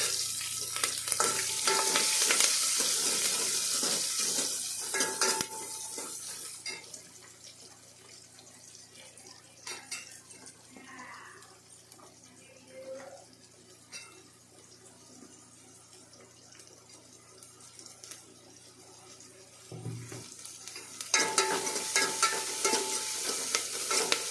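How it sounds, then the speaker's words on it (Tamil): Cumin seeds, curry leaves and onion frying in hot oil, heard as a steady sizzle with occasional stirring; louder bursts open and close the stretch while a quieter, lower simmer fills the middle. "சீரகம் பொரிஞ்சதும் கருவேப்பிலை அதுக்கப்புறம் வெங்காயம்"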